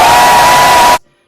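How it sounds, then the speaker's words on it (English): A home football stadium crowd for the Detroit Lions roars in a loud, sustained wall of cheering that cuts off abruptly after about a second. "I'm going to show a clip for you guys of how loud that crowd actually was."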